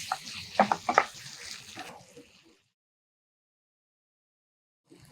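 Water splashes and pours into a cooking pan of chicken for about two seconds, then goes quiet, with a faint clatter near the end.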